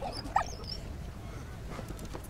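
A dog in the video game Valiant Hearts: The Great War gives a short, faint whimper and yip over a low background hum, heard once early and then fading into quiet game ambience.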